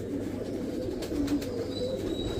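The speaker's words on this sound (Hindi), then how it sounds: "कांटों वाले टेडी कबूतर, माशाल्लाह खूबसूरत पेयर" Teddy pigeons, a male and female breeding pair with feathered feet, coo softly over a steady low background murmur, the calls blending into a continuous gentle drone.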